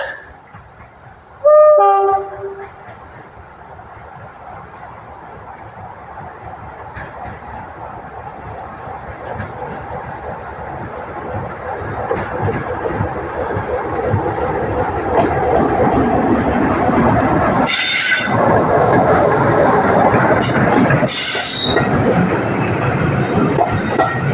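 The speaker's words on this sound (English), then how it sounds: "So we've got another diesel coming along." A heritage diesel train passes through Summerseat station on the East Lancashire Railway, its engine rumble building gradually to a loud, close roar, with horn blasts near the start and late on.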